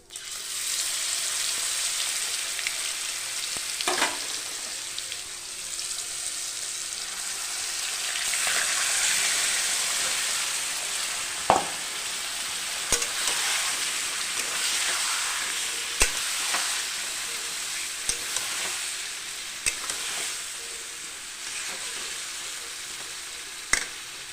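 Chicken pieces sizzle steadily in hot mustard oil with whole cumin in a kadai, a dense, continuous fry broken by occasional sharp clinks of a spoon stirring against the pan; no voices.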